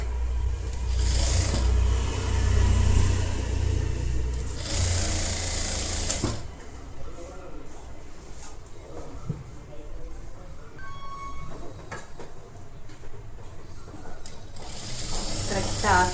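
A sewing machine stitches blouse fabric with a loud, even mechanical whirr in two long runs. Quieter handling noise follows, and a person talks over parts of it.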